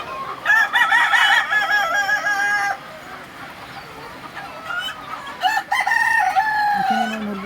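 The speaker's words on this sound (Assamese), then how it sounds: "এইখিনি মোৰ মুৰ্গী আছে এতিয়া।" Backyard chickens cluck near the microphone while a rooster crows loudly and repeatedly, with a pause in the middle, in a farmyard coop.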